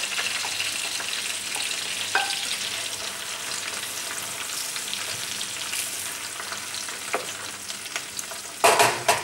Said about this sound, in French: Tout est cuit dans le beurre.